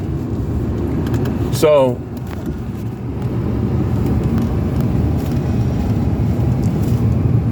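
A car pulls out of a parking lot, its steady engine and road noise filling the scene up close, with a brief chirp of another sound early on and a voice speaking briefly.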